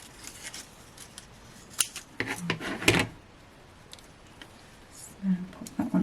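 Scissors snip paper pieces for a snowy Hunkydory craft card in a few sharp cuts close to the mic, mixed with faint handling and rustling, followed by a couple of soft thumps.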